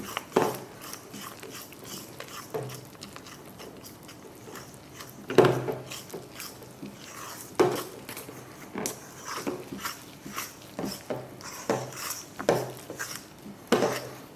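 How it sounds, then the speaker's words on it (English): Sticky dough for Lithuanian meat pies, made of flour and oil, being mixed briskly in a bowl, with repeated wet slapping and knocking strokes in an irregular rhythm, close and moderately loud, no talking. "I'm going to mix everything together briskly. We should get a very sticky dough."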